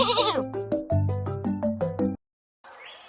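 A herd of goats bleats in a rapid overlapping chorus of loud, wavering calls that break off abruptly, followed after a short silence by another fainter bleat.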